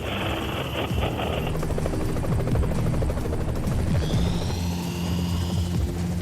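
A rescue helicopter hovering over the sea during a basket hoist, its loud, continuous rotor thrum and engine whine persisting throughout, steady and close, with a high-pitched tone shifting partway through.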